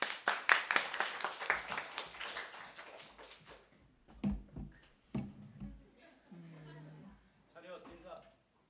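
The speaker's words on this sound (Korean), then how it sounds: "박수" Applause from a church congregation welcoming a young member forward for a short-term mission trip report, brisk clapping loud at first then thinning out, followed by scattered voices and shuffling.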